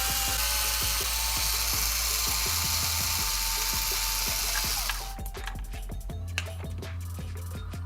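Four screws come out of an RC car's receiver box, driven by a small motorized driver or ratcheting tool that gives fast, even clicking bursts with brief pauses between screws.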